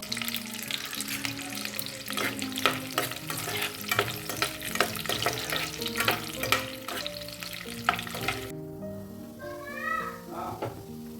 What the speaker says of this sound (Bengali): তুমি একটু লুচিগুলো শুধু একটু ভেজে দাও